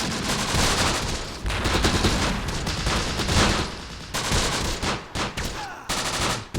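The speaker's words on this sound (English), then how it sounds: "Like that Bersaglieri MG." Italian Bersaglieri machine gun in the WWII strategy game Close Combat, loud sustained bursts of automatic fire with overlapping shots and brief gaps between volleys, close and dense.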